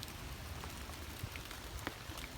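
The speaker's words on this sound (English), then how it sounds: "There's a stream running through it up here." Runoff water trickles and patters through a natural rain garden below a house, a steady, soft, close wash of dripping and flowing water with scattered small splashes throughout.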